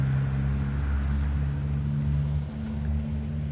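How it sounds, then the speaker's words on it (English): A loud car or truck passes outside a ribbon-cutting ceremony, a steady low engine drone and rumble that fills the scene and eases slightly toward the end. "It's not a ribbon cutting unless we have a loud car or truck drive by."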